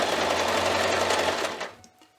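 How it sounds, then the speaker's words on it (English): A sewing machine runs steadily, stitching a quilted Christmas stocking at a quarter-inch seam along the presser foot edge, then slows and stops near the end. "I'm going to put it right into my machine just like this at the top"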